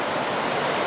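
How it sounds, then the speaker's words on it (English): A pretty river along the Pacific Crest Trail rushes steadily as a broad, constant roar of flowing water, close and fairly loud, with no voices over it. "Very pretty river."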